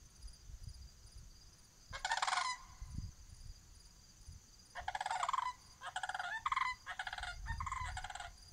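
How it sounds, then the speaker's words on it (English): Sandhill cranes call from a distance over a farm where a grain bin is being built: a short burst of rolling, rattling calls, then a longer series of repeated trumpeting calls above a low background rumble. "Sandhill cranes right there."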